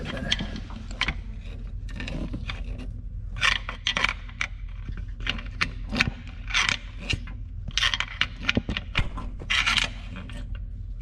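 Screwdriver scraping and clicking inside a forklift's drive mechanism, irregular metallic rasps and ticks in uneven bursts, fairly close and quiet.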